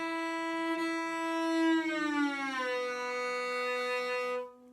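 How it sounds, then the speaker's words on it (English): A cello plays a single bowed glissando, one sustained rich tone that slides smoothly upward and then glides back down before fading out, close and clear with no talking. "we're going to do something called a glissando, which is where we slide with our finger using one bow"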